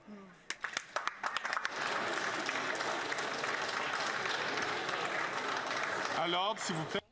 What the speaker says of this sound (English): They're just clapping.